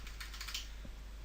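A single key press on a computer keyboard, a soft, close click or two against a steady low background hum, with no talking.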